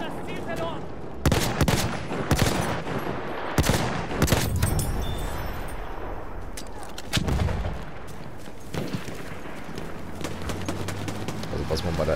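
Gunfire in a Battlefield 1 battle on the Ballroom Blitz map, with several sharp loud shot bursts and heavier blasts over a dense rumbling battle din, plus voices shouting in the background.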